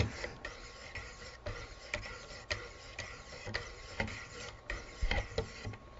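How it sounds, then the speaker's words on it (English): A knife blade stroked against abrasive stones on a Wicked Edge sharpener, polishing the edge: faint, close rhythmic scratchy rasps repeating roughly every half second, alone without talk. "you can actually tell just by hearing the places where I still need to do some polishing, because it sounds a little rougher, a little scratchier"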